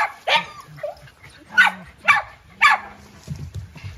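Several dogs bark at a stray dog rescue shelter in Wuhan, China, giving sharp, close barks in an uneven rhythm with short yips and whimpers between them.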